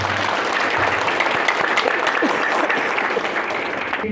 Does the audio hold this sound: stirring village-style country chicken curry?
no